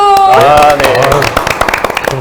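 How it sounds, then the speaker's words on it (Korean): A brief spoken call, then an audience at a regional job fair event breaks into scattered clapping that stays light and uneven to the end. "박수!"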